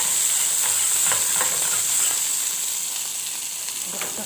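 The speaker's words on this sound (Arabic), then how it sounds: "اقلبها كده كويس" Liver and gizzards fry and sizzle in a pan with coriander and chili harissa while a spoon stirs them. The hiss is loud, continuous and close, with light scraping taps throughout.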